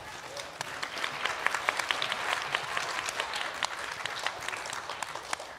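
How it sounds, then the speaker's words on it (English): A short burst of applause from a small group, scattered claps at an even, moderate volume. "I'd like to give you a round of applause to yourself for taking interest in this."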